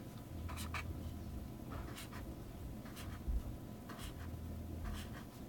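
Pen strokes write a series of numbers on paper for an octal-to-hex conversion, short scratchy marks repeating roughly once a second over a steady hum of room noise.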